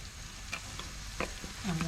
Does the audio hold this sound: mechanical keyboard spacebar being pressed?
no